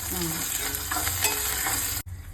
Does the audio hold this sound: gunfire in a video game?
no